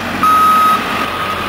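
A truck hauling trailers emits a steady electronic reversing beep, one long tone followed by a few short faint chirps, over a constant engine rumble and outdoor background noise.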